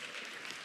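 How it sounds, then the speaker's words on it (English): A brief burst of audience clapping at a children's savings product launch event, soft and even, lasting under a second. "A round of applause."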